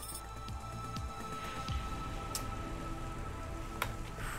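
Steady rain falling in the video game Cloudpunk, a dense continuous patter with occasional louder drips, heard alone without talk.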